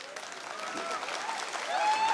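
A crowd applauds during a political speech, a brief burst of hand clapping with a faint tonal whine running alongside it.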